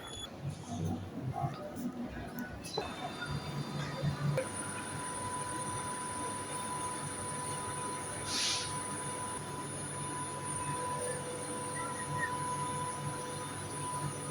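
A stationary electric train hums steadily at a platform in Glasgow, with a brief hiss and faint station ambience in the background.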